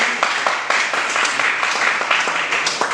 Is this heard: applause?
yes